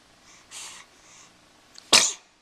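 A baby girl sneezes loudly and sharply once, preceded by a few softer breathy little baby noises.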